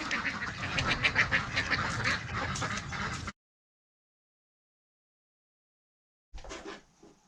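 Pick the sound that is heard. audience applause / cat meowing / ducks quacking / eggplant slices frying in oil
ducks quacking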